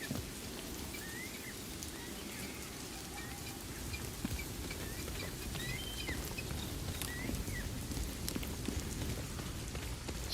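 Rain in Outcast: A New Beginning, a steady dense patter of drops on surfaces, constant and moderately loud, with faint birdlike chirps above it.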